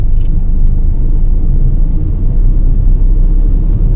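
A Tata Tiago CNG hatchback drives at low speed with a steady, loud low engine and road rumble throughout, as the driver shifts into fourth gear without any clear break in the drone.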